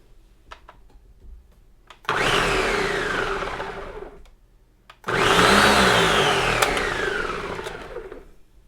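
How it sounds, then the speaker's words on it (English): A blender whirs loudly in two long bursts while mixing cowboy butter, each winding down as it slows, with a short quiet pause between them. "let's bring our blender back."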